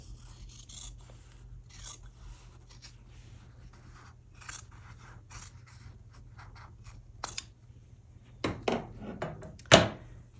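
Scissors cutting along the diagonal line of sewn quilting fabric, a series of faint soft snips and rasps over a low steady hum, ending with a few louder crisp cuts close by.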